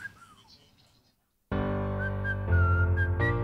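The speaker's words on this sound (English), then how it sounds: "What is with all the whistling?" A clear melodic whistle, first thin and faint over low background chatter, then a sudden loud sustained tune after a brief silence, with sliding pitch changes.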